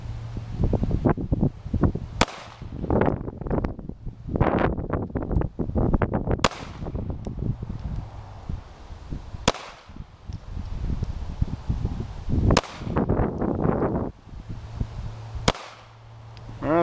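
Glock 43 pistol fired with the same ammunition at a 5-yard range line: about five sharp, loud single shots spaced a few seconds apart, with rustling and handling noise filling the gaps.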